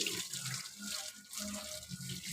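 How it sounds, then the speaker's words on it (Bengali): A dog is being bathed under running water, with a steady splashing stream from a tap. It sounds close and moderately quiet, with a continuous rushing flow and small splashes, and no speech. "লালু স্নান করবে, কত সুন্দর করবে লালু স্নান।"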